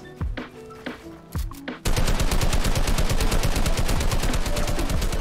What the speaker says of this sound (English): You hear the drum gun?